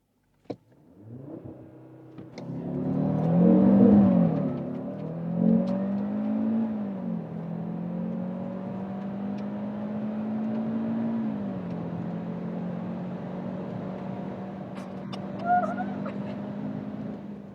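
Cupra Formentor VZ5 with a 2.5-litre five-cylinder engine launching hard on a closed circuit, the engine note climbing steeply, then settling into a long, steady drone as the car accelerates, close and loud.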